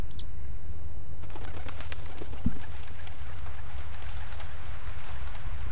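Pigeons in the video game A Bird Story coo softly amid faint flapping and clip-clop-like ambient ticks, with a short low burst near the middle over a steady low hum.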